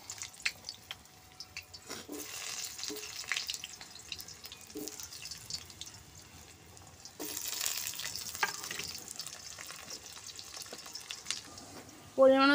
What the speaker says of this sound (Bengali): তেলটা গরম হয়ে গেছে, আলুগুলো ভেজে নিচ্ছি।